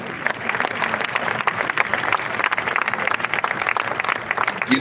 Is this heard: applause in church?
yes